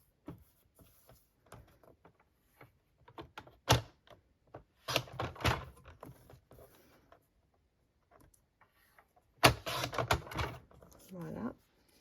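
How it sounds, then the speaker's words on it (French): Vellum paper cut with a paper trimmer while making a scrapbook card: scattered soft clicks and taps, then a few louder bursts of scraping and snapping as the blade runs through the sheet, close and dry. "Je viens couper précisément autour."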